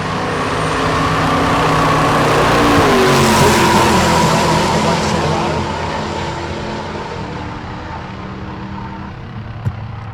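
A black Chevrolet C10 Silverado on a drag strip pass at Tulsa Raceway Park, a loud sustained engine roar that swells as it approaches, peaks, then fades into the distance, with no talk over it.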